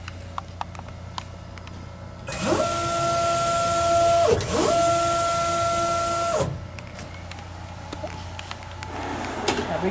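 A Ricoh DTG pretreatment unit treating a shirt whirs into motion with a rising motorized drone and faint spraying hiss, runs steadily for a few seconds, then winds down to quiet clicks.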